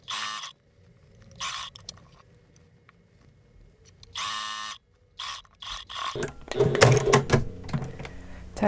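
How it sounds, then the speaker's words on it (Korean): A sewing machine stitching around a blouse neckline in short bursts of whirring, separated by quiet pauses, with rustling fabric handling and louder shuffling toward the end; no talk. "이렇게 삥 둘러서 박음질을 해주도록 하겠습니다"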